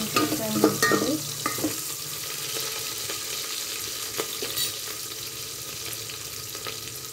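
Something frying in oil in a pan until brown for a country chicken curry, a continuous sizzle with clattering stirring strokes near the start, then a steadier hiss with occasional scrapes, no talk.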